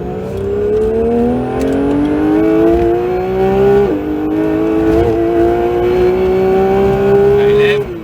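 A Porsche 911 GT3 (992) engine revs hard as it accelerates on track, its steadily rising tone climbing through two gear changes, loud, close and continuous.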